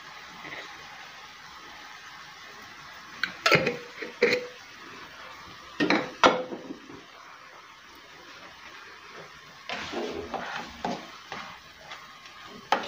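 Frying in fish oil in a pan, a low steady sizzle with a few sharp louder bursts of crackle and stirring clatter, fairly close and quiet between them.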